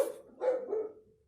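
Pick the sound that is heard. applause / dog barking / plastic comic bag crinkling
dog barking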